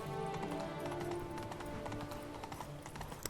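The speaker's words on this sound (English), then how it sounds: "There's a random horse in the middle of the street. Can I just ride it?" A horse's hooves clip-clop at a steady trot in The Witcher 3 video game, faint, rhythmic hoof taps under a low game background.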